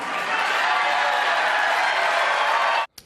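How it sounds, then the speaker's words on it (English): A political rally crowd bursts into loud, enthusiastic applause and cheering, a dense continuous roar of clapping that cuts off abruptly near the end. "You hear the crowd there? That enthusiastic applause"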